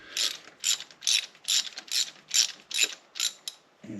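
A ratchet clicks in about nine evenly spaced bursts as it works spark plugs out of a Mercedes R107 450SL engine, close and crisp, ending with a brief low knock and no talking.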